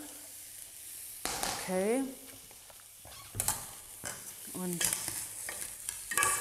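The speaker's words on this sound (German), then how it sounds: "brutzelt es hier auch schon schön." A vegan stir-fry sizzles in a pan with steady frying crackle and scraping stirs, while someone talks briefly over the cooking sounds at close range.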